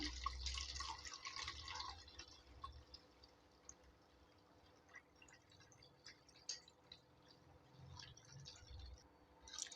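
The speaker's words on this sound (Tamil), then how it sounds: "இந்த கப்பு ஃபுல்லாக நான் தண்ணி ஊற்றிட்டு போகிறேன்" Water poured into a cup for making lemon juice, a quiet liquid trickle and dripping that runs unevenly, with soft splashes and small bursts rising and falling, heard close and alone with no talking.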